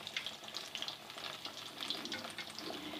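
Fish pieces frying in ghee in a pan, a steady close crackle and sizzle with bright spitting pops, continuous and moderately loud with no speech.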